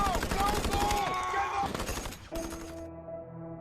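A .50 caliber heavy machine gun hammers out rapid, thudding bursts in a World War II last-stand battle scene, loud and continuous, mixed with tonal background sound and voices.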